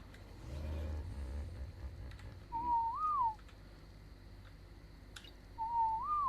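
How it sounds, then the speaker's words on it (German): A player character whistles a command to a tamed creature in ARK: Survival Evolved, two short rising-and-falling whistle notes a few seconds apart over a faint game background. "Der pfeift den, wenn er auf Passiv stellt."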